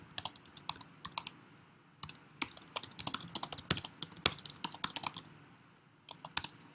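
Rapid keystrokes on a computer keyboard as text is entered into a digital whiteboard note, sharp clicks arriving in quick irregular bursts with brief pauses, close and clear with no talk.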